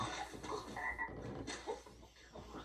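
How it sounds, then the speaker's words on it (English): A computer-animated frog in a movie croaks in a string of throaty, rasping calls over a busy background of film sound. "Oh, a CGI frog."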